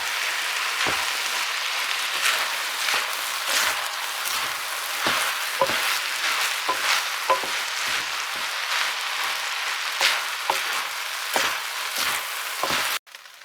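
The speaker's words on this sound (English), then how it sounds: "យើងឆាអង្ករជាមួយសាច់ជ្រូក3ជាន់" Soaked rice stir-frying with three-layer pork belly in a pan for Khmer rice porridge: a steady close crackling sizzle broken by repeated sharp spatula taps and scrapes, no voices, cutting off abruptly at the end.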